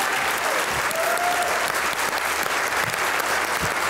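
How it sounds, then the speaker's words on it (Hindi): A crowd at a poetry recital gives loud, sustained applause to welcome a Pakistani poet onto the stage. The clapping is thick and even from start to finish. "आपकी भरपूर तालियों में"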